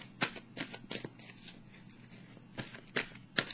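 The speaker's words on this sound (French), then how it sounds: "je vais piger une carte de l'oracle de l'âme intuitive" A tarot-style oracle card deck being shuffled by hand, giving soft papery riffles and flicks in quick bursts, a pause, then more sharp card snaps near the end, quiet and close with no talking.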